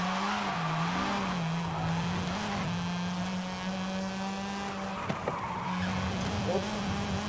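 A modified, previously abandoned Mazda RX-7 drifts in Forza Horizon 5, its engine droning steadily while the tires skid and squeal continuously through a long slide, loud and near, with a brief knock near the end.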